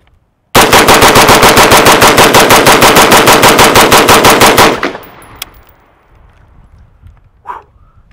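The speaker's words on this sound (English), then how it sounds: "Just for funsies, I'm going to mag dump my rifle." Full 30-round magazine dump from an M&P Sport II AR rifle, a loud, very fast unbroken string of close shots lasting about four seconds, then fading echo and quiet.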